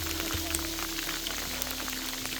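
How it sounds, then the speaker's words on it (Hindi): Hail and rain patter densely on the ground and gear during a mountain temple trek in the Himalayas, a constant close crackling hiss under a low steady hum. "बहुत तगड़े ओले पड़ने स्टार्ट हो गए हैं।"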